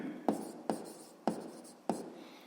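Pen or chalk writing out a math solution for a sixth-grade exercise, with four distinct taps and short strokes at an uneven pace, faint and close.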